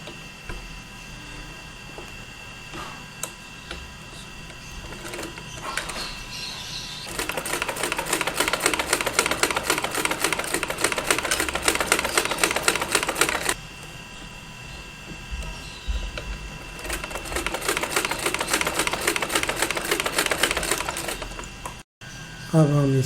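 Sewing machine stitching a men's suit kameez fabric along a buckram-backed placket, two long steady bursts of rapid mechanical chatter separated by quieter handling, close and fairly loud.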